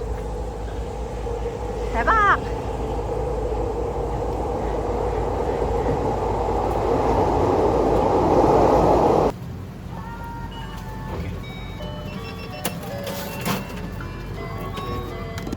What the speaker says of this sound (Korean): 열차까지 지나간다.